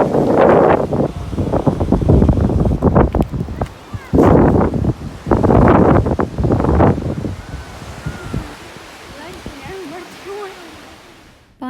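Strong wind in the Chitral mountains buffets the microphone in loud, gusty bursts that rise and fall, then eases to a quieter rushing background near the end. No one speaks.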